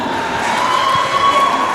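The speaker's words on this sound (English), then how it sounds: "please a round of applause for your first speaker" Loud applause and cheering from a crowd at a university speaking contest, sustained throughout with a dense wash of clapping and shouts.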